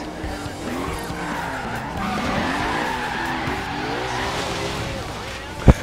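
Tires squealing as a car skids and spins out in the driving game Forza Horizon 3, in an online parking lot drift session, with a steady engine drone under the screech and a sharp knock at the end.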